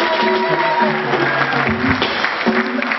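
Applause for the parents at a wedding reception, a dense wash of clapping from a crowd filling the room continuously, with steady background music tones running underneath.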